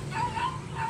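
A dog gives a few quick, high yips in rapid succession at moderate distance, with faint background noise.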